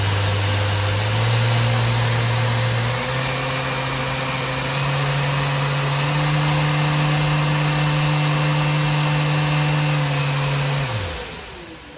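A Mirka Deros II 750 175mm orbital sander hums close and loud with a steady electric motor whine, its pitch stepping up in stages across the power settings, then spinning down at the end.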